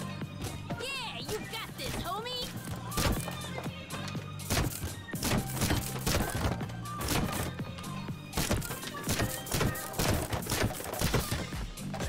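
Gunfire blasting apart ceiling tiles in the video game Road 96: repeated sharp, cracking bursts and crashing impacts scattered across the clip, with voices talking over them.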